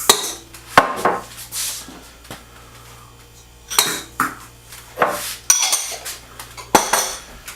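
Sugars and shortening being mixed in a bowl for chocolate chip cookie dough: irregular clinks and knocks of a utensil against the bowl, close and loud, separated by quieter stretches.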